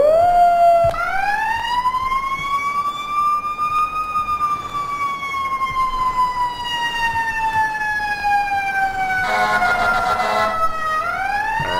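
A fire truck siren wails continuously in EmergeNYC, a loud, close, rising-and-falling tone during a ladder truck race, with a brief burst of harsher noise near the end.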